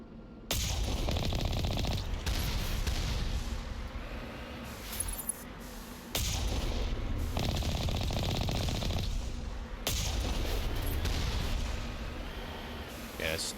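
Rocket turrets fire at the Mako vehicle in the video game Mass Effect, with dense rattling volleys in several long bursts, each separated by brief gaps.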